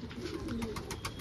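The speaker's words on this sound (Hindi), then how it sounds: "ये है नीलदुमी कबूतर और ये जो है ये है फीमेल हमारे ब्रीडिंग की कबूतर" A female Nil dum (blue-tailed) breeding pigeon coos softly in short, repeated pulses, close but quiet, over light background noise.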